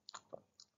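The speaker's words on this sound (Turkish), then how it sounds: "bu çiğneme sesi benim küçük serseri köpeğimden geliyor." A small dog chews on an iPad pen, making a few faint, quiet chomps and clicks spaced out over a moment.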